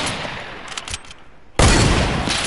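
Gunfire in the Fortnite video game from a hunting rifle and a bolt-action rifle, with a few muffled shots, then a sudden loud blast that holds as a dense burst of noise.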